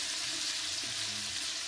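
Onions sizzle and fry in hot oil as green chillies and ginger-garlic paste are added for a chicken white pulao, a steady, close, continuous crackle with no talking.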